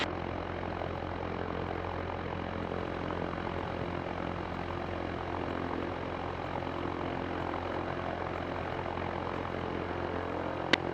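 A steady, continuous drone of a Zenith STOL CH 750 light propeller plane's engine heard from inside the cabin in flight, loud and unchanging throughout.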